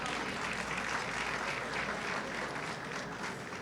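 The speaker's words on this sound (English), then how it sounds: "And let us give a round of applause to Peter" Sustained applause from an audience at a Greek event honoring the Evzones, steady and dense clapping with no talk over it.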